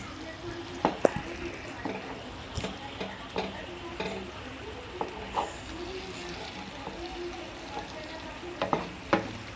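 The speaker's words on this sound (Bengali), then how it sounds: "কিছুক্ষণ নাড়াচাড়া করতে হবে, নাড়াচাড়া না করলে কিন্তু মশলাটা নিচে ধরে যাওয়ার চান্স আছে" Spices with green chillies and tomato frying on low flame for a Bengali-style pork kasha, a constant close sizzle broken by repeated scraping and clinking strokes of a spatula being stirred through the pan.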